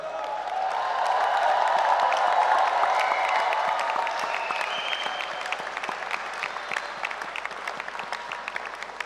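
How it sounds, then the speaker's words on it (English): Loud, joyous applause from a graduation crowd at Edinburgh Napier, dense clapping with faint cheers that swells early and then slowly thins into scattered claps. "let's honor them now with the loudest, most joyous applause you can give"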